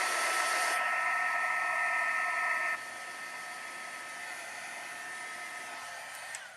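A hair dryer or heat tool blows over wet watercolor paint on a cardmaking piece, a loud steady rushing whoosh that drops to a lower, quieter setting partway through and keeps running alone.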